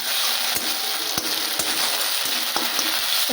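Browned onion with ginger, garlic and cumin paste frying in very little oil for a pointed gourd curry, an even sizzle up close broken by regular sharp taps and scrapes of a spatula against the pan.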